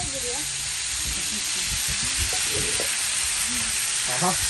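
Kappa biriyani cooks outdoors in a large pot as it is stirred, with a constant loud hiss of steam and sizzling running throughout, while people talk briefly over it.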